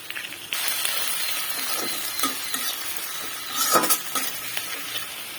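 Onion paste, cumin and garlic paste fry in a pan for a prawn bhuna, a steady sizzle punctuated by stirring scrapes and light clinks of a utensil, with no talking.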